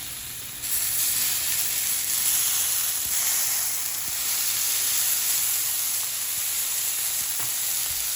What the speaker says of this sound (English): now I'm gonna drop a tablespoon of butter and about 1/4 of a can of Hatch green chilies